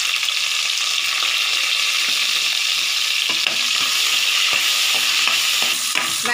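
Onions, garlic and curry leaves frying in oil in a pan, a dense continuous sizzle with occasional stirring clicks toward the end.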